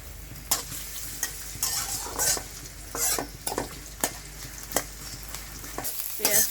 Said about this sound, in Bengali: সাদা সয়াবিন তেলটা দিয়ে দিলাম পেঁয়াজ কুচি দিয়ে নিলাম